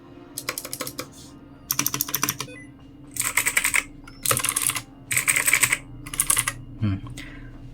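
Typing on a Fantech ATOM63 mechanical keyboard, heard as six separate bursts of rapid, clicky keystrokes with short pauses between them, close and clear with no talking.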